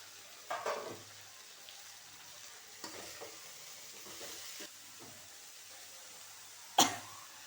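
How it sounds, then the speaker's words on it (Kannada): Ridge gourd fries quietly in a pan, a soft low sizzle broken by a few sharp scraping knocks from stirring, with one louder clatter near the end and no talking. "ಈ ಹೀರೆಕಾಯಿನ ಫ್ರೈ ಮಾಡ್ಕೊಳ್ಳೋಣ."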